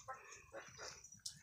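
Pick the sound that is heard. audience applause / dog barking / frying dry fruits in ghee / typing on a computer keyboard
dog barking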